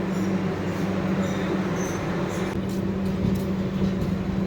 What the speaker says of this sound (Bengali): ঠিক 1 মিনিট হল্ট করার পর ছেড়ে দিল আমাদের ট্রেন ডেলং থেকে।